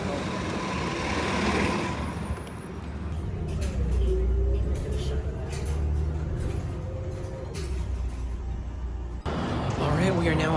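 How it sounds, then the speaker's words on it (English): Onboard ambience inside an MTA Maryland route 75 city bus, with a steady low engine rumble and road noise throughout, faint rattles, and a sharp change near the end as the vehicle shifts; voices murmur in the background. "we are now on bus 75 of MTA Maryland"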